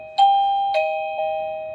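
A Milton's Bells warehouse doorbell plays its first chime sound: three clear, ringing bell strikes that sustain and overlap, loud and close with no talking.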